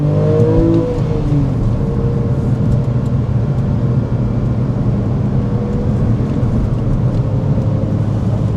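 A 13-year-old Porsche 911 GTS engine roars continuously as the car drifts, the loud exhaust note holding steady with a brief swell of revving near the start.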